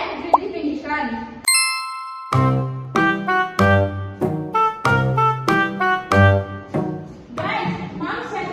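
A phone message notification chime plays a short run of bright, bell-like tones in a rising and falling pattern, loud and close, with speech before and after.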